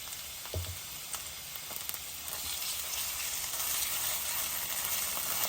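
Onion and ginger-garlic paste fry in oil for a mutton curry, giving a continuous close sizzle with a brief knock of a spoon early on.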